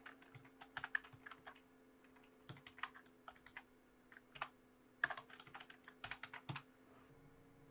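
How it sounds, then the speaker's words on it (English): Text typed on a computer keyboard in irregular bursts of light clicks, close and fairly quiet over a steady low electrical hum, with no voices. "we're just going to type out crime scene, do not cross"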